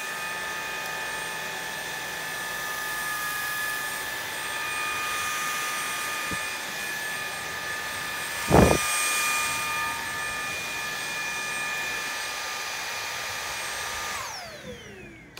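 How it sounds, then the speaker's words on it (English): A MOOSOO K24 cordless vacuum cleaner runs on high mode with a steady, loud whine holding constant tones, broken by one brief bump or clatter midway, then the motor winds down at the end. "Now I'm gonna go ahead and crank it up and see what this does on"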